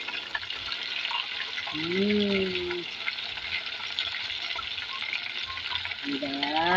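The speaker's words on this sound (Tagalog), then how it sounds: "Ayan, ating manok. Prito." Chicken pieces fry in hot oil with a steady, close sizzle and crackle throughout, while a voice speaks briefly over the cooking noise.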